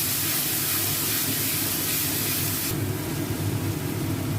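Spice paste dropped into hot oil for a chicken heart curry, a loud steady sizzle and hiss of frying that eases slightly partway through.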